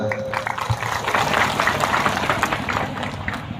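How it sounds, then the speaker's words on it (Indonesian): An audience at a Nahdlatul Ulama (NU) gathering in Desa Sumber Harapan, Belitang 2, claps together: a dense, fairly loud patter of many hands filling the room for a few seconds. "Tepuk tangan."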